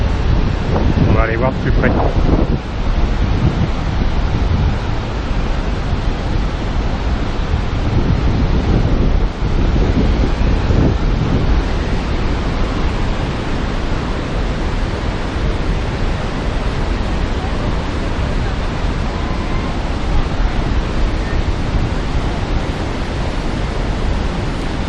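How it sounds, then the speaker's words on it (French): Large waterfall in Yosemite, a steady, loud broadband roar of falling water mixed with wind buffeting the microphone throughout, while a person speaks briefly near the start. "là on a juste la grosse cascade qui arrive, qui descend"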